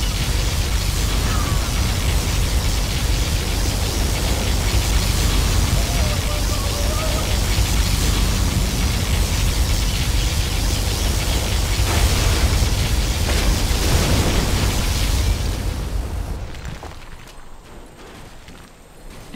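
Particle cannon blast in the strategy game C&C Generals Zero Hour, a long, loud, roaring rumble that holds for about sixteen seconds before fading, with faint game voices underneath.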